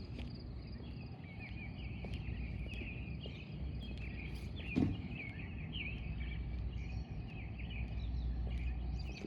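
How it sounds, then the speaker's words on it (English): Small birds chirp and twitter outdoors in short, thin calls throughout, faint above a steady rumble of traffic and wind, with one brief thump near the middle. "This bird sing."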